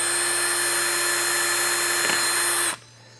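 A power drill bores a hole into a toy laser blaster gun, a steady high-pitched whine running close and loud for nearly three seconds before cutting off abruptly.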